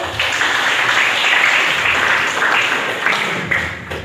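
A classroom audience breaks into applause, a loud, dense burst of many hands clapping close by, sustained for several seconds before thinning out toward the end.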